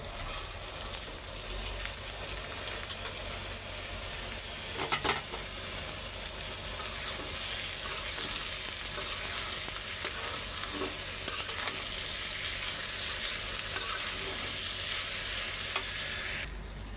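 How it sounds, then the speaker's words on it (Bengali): Rice and lentils fry with onion and spices in a pan, giving a continuous even sizzle with faint stirring scrapes throughout. "চাল ডাল মশলা সব দিয়ে রেডি করে রাখছি। তো ভাজা ভাজা করে তারপরে রাইস কুকারে দিয়ে দিব"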